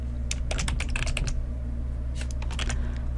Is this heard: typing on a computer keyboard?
yes